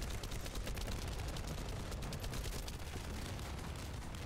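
Gunfire in The First Descendant video game crackles in rapid, fairly even bursts. It is faint and distant throughout, with a sharper hit right at the end.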